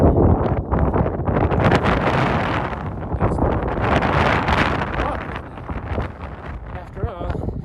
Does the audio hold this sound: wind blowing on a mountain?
yes